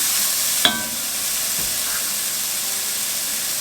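Garlic sizzles in a cooking pan as a steady, fairly close frying hiss, broken once early by a short sharp clink or stir.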